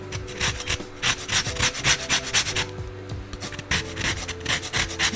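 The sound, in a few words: zesting a lemon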